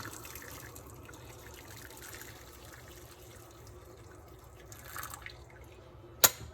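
Coffee liquid for café con leche dribbles and trickles softly into a pan on a stovetop, faint and continuous, ending with a sharp clink.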